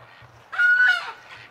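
Ducks calling at night near a barn during winter, a short burst of loud honking quacks in the middle of a quiet stretch with low background rumble.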